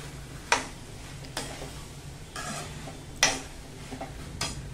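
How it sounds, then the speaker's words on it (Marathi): Spoon stirring chopped bottle gourd in a cooking pan, a handful of sharp scrapes and clinks spaced irregularly over a quiet background, close and alone without talk. "हे बघा, हे आता मी हलवून घेते।"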